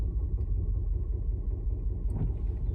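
A Scion xB engine runs with a steady low rumble and a slight shaking vibration, close by and constant, with a brief higher rattle near the end.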